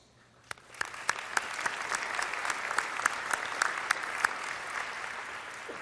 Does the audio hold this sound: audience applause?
yes